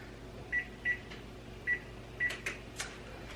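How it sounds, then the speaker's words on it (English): An oven control panel beeps four times while being set to preheat, short tones at an uneven pace, close and fairly quiet, followed by a couple of soft clicks and no talking. "First thing I need to do is preheat the oven."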